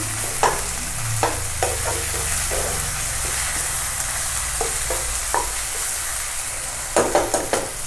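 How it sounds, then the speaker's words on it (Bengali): Onion and tomato masala fries loudly in a pan for a Bengali mustard-oil katla fish curry, a dense constant sizzle with spatula scrapes and taps recurring throughout and clustering near the end. "আর একটু ভাজা হবে।"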